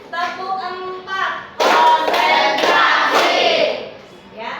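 Children in a classroom clap together in a short rhythmic burst after a voice chants a cue, the claps loud and close, set against the preceding chatter.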